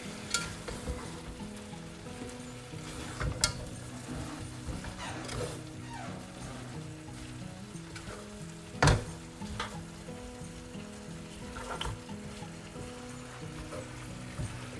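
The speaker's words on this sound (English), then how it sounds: "Gonna stir it, and I'm gonna add our soba noodle." Yakisoba noodles frying in a hot pan with soba sauce, a steady sizzle running throughout with occasional scrapes and stirring clatters, one sharper knock near the middle, with background music underneath.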